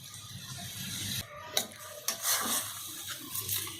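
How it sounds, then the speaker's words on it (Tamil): Water splashes and trickles into a pressure cooker of bottle gourd and lentil kootu amid kitchen clatter, with a few sharp clinks of metal close by. "கொஞ்சமாக தண்ணி சேர்த்துக்கோங்க"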